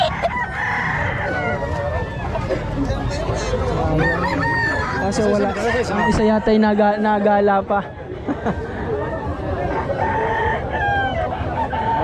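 Chickens and roosters at a chicken market in Lemery, Batangas, with repeated loud crowing and clucking close by, mixed with people talking throughout.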